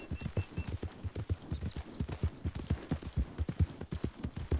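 A horse's hoofbeats clop rapidly and evenly on the ground for several seconds, close and prominent, in Red Dead Redemption 2, a game set in the American frontier, with no voices over them.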